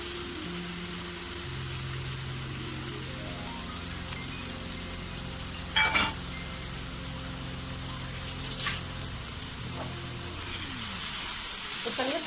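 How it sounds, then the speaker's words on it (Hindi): Chopped onion, ginger, green chilli and garlic sizzle steadily in hot oil in a pan, a constant close crackling hiss with a few louder pops and stirring clinks. "तो चलिए सारे कुछ को गोल्डन ब्राउन होने तक भून लेंगे।"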